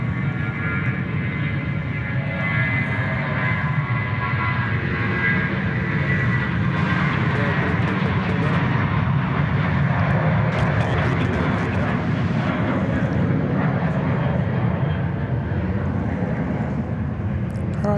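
A Jetstar airliner rolls for takeoff at Sydney Airport, its jet engines producing a loud, sustained roar that holds steady throughout.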